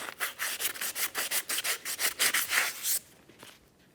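Fine sandpaper scuffs the surface of a wheel hub from a 1994–1997 Honda Accord in quick repeated strokes, a close, raspy rubbing that stops after about three seconds.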